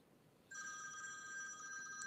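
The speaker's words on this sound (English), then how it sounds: "My phone has the tendency to fucking go off at the wrongest time." A phone alarm or ringtone suddenly starts and keeps ringing as a steady electronic tone pattern, moderately loud and close, with no talking over it.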